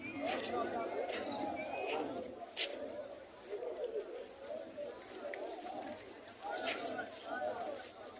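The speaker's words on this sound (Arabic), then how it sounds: "طيور أيضا موجودة، مختلف أنواع الطيور." Mixed birds, pigeons and doves among them, at the Friday bird market in Karbala, cooing and chattering steadily through a busy crowd, with voices talking nearby throughout.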